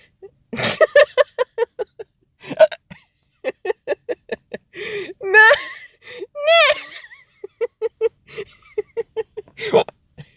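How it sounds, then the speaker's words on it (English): Repeated hiccups break up a stretch of giggling and whimpery vocal sounds, short sharp catches recurring in quick uneven bursts, close and fairly loud, with laughter running between them. "I keep laughing because my hiccups."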